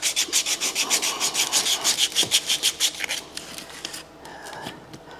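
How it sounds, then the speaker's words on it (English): Emery cloth rubbed back and forth inside a drill press motor housing during restoration, a close, rhythmic scrubbing of about twenty quick strokes that slows and softens toward the end. "Got a little emery cloth here, and I'm just cleaning the inside of the motor."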